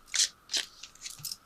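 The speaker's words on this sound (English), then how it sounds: "Let me throw a couple of these clarity cards." Chakra clarity cards are drawn and tossed down, a few quick papery flicks and slaps in a brief close sequence, faint and alone.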